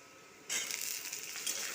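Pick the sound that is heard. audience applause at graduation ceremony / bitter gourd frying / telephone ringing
bitter gourd frying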